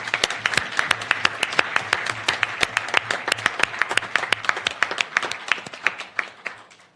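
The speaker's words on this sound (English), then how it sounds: "Let's give a big applause for the young people of Bangladesh." An audience applauding the young people of Bangladesh at a social business, youth and technology event, with crisp, individually distinct claps forming a loud, fairly regular rhythm throughout.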